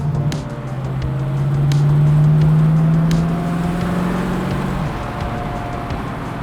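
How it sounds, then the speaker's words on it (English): A red 1971 Mercedes 300SEL 6.3 with a 6.3-liter M100 V8 and custom intake and exhaust runs close by, its deep engine drone rising and holding before falling back, with light ticks and clicks over the steady rumble. "You can hear the custom intake and custom exhaust that was built just for this car right here."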